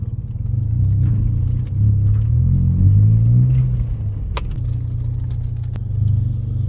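A car with a radiator-related overheating fault idling after being started, a loud steady low engine rumble with slight rises in pitch, plus a few sharp metallic clicks and a brief jangle, no speech.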